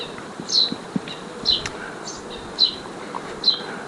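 Honeybees buzz around a mini nucleus hive, a steady close hum with several sharp passing zips as individual bees fly by.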